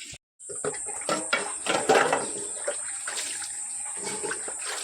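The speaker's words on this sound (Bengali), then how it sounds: "আমার মেয়ে স্কুলের ব্যাগ ধুচ্ছে" Running water splashes steadily as a girl washes her school bag at home on a rainy day, a continuous broadband gush with a few louder surges, close by.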